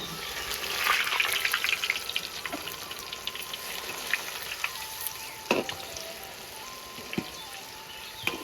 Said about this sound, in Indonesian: tempenya digoreng dulu setengah mateng, biar nggak ambiar lor